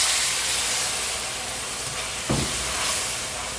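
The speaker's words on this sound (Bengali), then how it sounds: "এখন আমি ঝোল দিব, ঝোলটা করে মাছ দিব।" Broth hits a spiced fish curry cooking in a pan, giving a continuous hissing sizzle with a brief burst of bubbling partway through.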